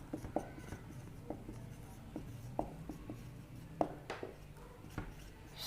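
Pen or chalk writing notes during a chemistry lesson on the Down's cell for sodium production, heard as scattered light scratches and taps over a low steady room hum, fairly faint and close, with no talking.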